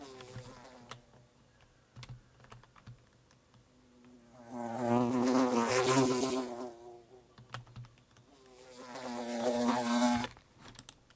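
A fly buzzes in Unreal Engine 4 with natural distance attenuation, its drone swelling loud in two waves and fading between them against a faint background.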